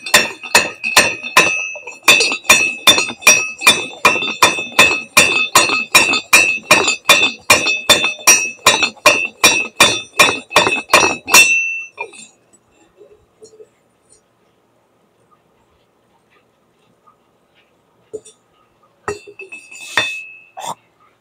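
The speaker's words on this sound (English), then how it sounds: "Let me crush it up some more to make sure" Hard, rapid strikes crushing small MLCC ceramic capacitors into fine powder, a dense run of sharp regular clinking blows that stops abruptly, followed by sparse faint knocks and a few final impacts.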